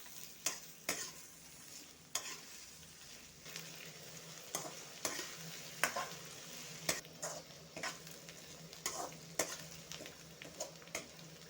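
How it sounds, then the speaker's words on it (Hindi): Onions and green chilies frying in a pan for a romaine lettuce saag give off a faint, steady sizzle, punctuated by a dozen or so sharp spatula scrapes and taps at an uneven rhythm. "ये हरी मिर्ची भी ऐड कर देंगे। ये प्याज भी ऐड कर देंगे। दो मिनट में फ्राई कर लेंगे।"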